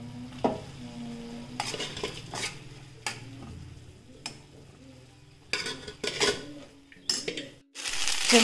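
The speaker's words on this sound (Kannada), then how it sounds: "ರಾತ್ರಿ ಮಿಕ್ಕಿರೋ ಅನ್ನವನ್ನು ಮಿಕ್ಸ್ ಮಾಡಿ ಚಿತ್ರಾನ್ನ ಮಾಡ್ತಾ ಇದ್ದೀನಿ." A spoon scrapes and clinks in a pan as leftover rice is stirred to make chitranna, with soft sizzling underneath; the utensil taps and scrapes come irregularly, close up, with no talking.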